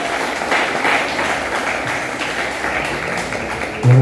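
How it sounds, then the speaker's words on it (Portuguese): Sustained applause from a church congregation during an evening service, a steady wash of many hands clapping at even loudness, ending with a brief low thump. "Que as palmas louvem e engrandeçam o nome do Senhor Jesus."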